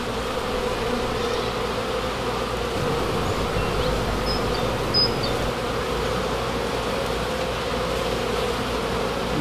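Honeybees swarm and buzz steadily around an opened beehive, a dense continuous drone close by with no talk over it.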